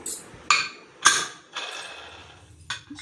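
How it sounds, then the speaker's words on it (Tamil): Several sharp bursts of hissing steam from a pressure cooker whistle while cooking chicken curry, each with a shrill metallic edge, separated by short quiet gaps. "பாருங்கள் விசில் போயிடுச்சு"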